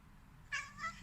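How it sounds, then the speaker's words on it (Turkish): A cat gives two quick meows in a row, the second sounding a bit like a voice saying 'mom', fairly close and clear over a quiet background. "ya anne diyen kedi"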